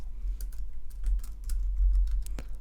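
Typing text on a computer keyboard, a steady run of quick, close key clicks with uneven rhythm over a low hum, no voices.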